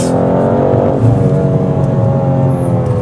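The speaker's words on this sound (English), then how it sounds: "It sounds good for an inline 6" A BMW M2's inline-six engine hums and revs steadily up close, a dense continuous drone that swells slightly around the midpoint and carries on without a break.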